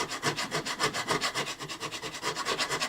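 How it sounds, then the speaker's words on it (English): A diamond grit file works back and forth over the frets of a Gibson Southern Jumbo acoustic guitar, producing close, steady, rhythmic rasping strokes that repeat evenly throughout. "these diamond grit files, you can file away from you and in both directions"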